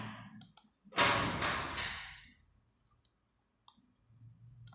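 Computer mouse clicks during an online voter card form upload, a few sharp isolated clicks spaced apart, with a louder rustling burst in between and a quiet background.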